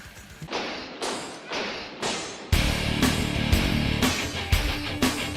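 An industrial metal track from a video game plays loud and driving with heavy regular thumping beats and dense distorted layers, starting sparser and building into a fuller pounding section halfway through.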